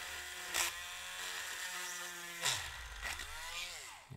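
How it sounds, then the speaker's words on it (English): A power drill spins a larger bit into a vinyl monster figure, a steady whining motor drone with pitch changes as the speed shifts and the bit bites, loud and close throughout without talk. "And then we'll go in with our larger drill bit."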